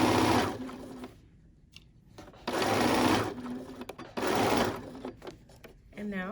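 A sewing machine stitches a fur infinity scarf in three steady whirring runs separated by brief pauses, with a short bit of speech near the end.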